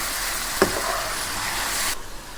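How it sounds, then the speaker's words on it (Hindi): Spices sizzle loudly in a cooking pan as a little water goes in and they are stirred, with one sharp spoon clink early, then the hiss suddenly cuts down to a quieter simmer near the end. "थोड़ा सा इसमें पानी डालेंगे,"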